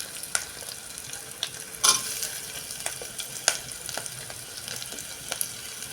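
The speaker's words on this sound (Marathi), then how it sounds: "बघा कांदा चांगला परतून झालेला आहे. त्यामध्ये टाकूया ह्या बटाट्याच्या फोडी." Potato pieces frying and being stirred into sautéed onion in a pan, with a steady close sizzle and scattered sharp scrape and clatter knocks of the spoon throughout.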